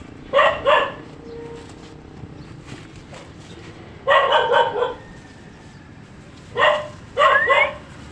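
A dog barks in three bursts of two or three quick barks each, separated by pauses over a low background hum, moderately close.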